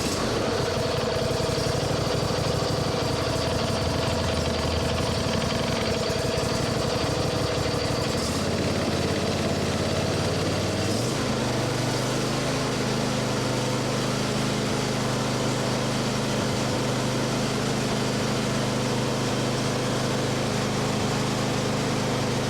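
A Briggs & Stratton small engine runs steadily nearby, its pitch shifting down and settling into a lower, even drone partway through as the throttle changes.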